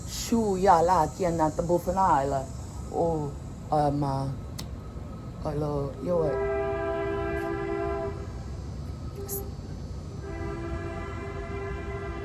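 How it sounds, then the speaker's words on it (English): Speech up front gives way to a long, steady multi-tone train horn blast that sounds, breaks briefly, then resumes, with insects buzzing high in the background. "If it honks again, that's the train."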